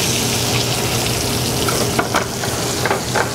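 Sheepshead fillet frying in a pan, a loud, dense, continuous sizzle up close with a few brief crackles and spatters, no voices.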